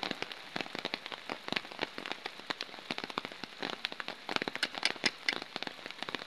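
Flood water in a barangay, San Gabriel, makes a continuous fine crackle and patter of drops and splashes, faint and steady throughout with no voices.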